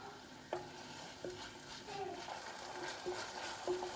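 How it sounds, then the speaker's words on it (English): Soft sizzling of food frying in a pan, with a few stirring scrapes and clinks at intervals; quiet and close, no voices. "So I'm just going to let this fry"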